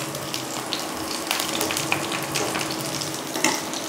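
Two green chillies fry in a pan, giving a bright, continuous hiss and crackle with occasional sharper pops close at hand.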